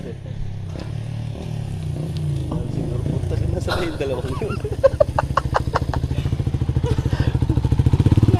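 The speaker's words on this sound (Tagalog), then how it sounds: "Motor ko yan, yung narinig kong mga tunog na yan." Motorcycle engine idling nearby, a low rhythmic putter that grows louder and steadier toward the end, with people talking over it and some clucking chickens in the background.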